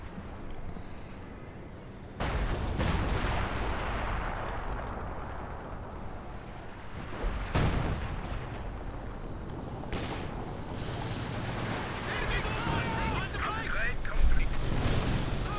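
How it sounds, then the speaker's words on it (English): leFH howitzer artillery booms in Company of Heroes 2, with several heavy blasts landing at intervals over a steady wash of battle noise and rumble, and a voice talking over the din. "Artillery is this now? Is this a LFH?"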